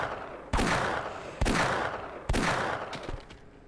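Gunfire in Half-Life, three loud, sharp shots spaced about a second apart, each followed by a ringing, decaying tail, close and alone with no talking.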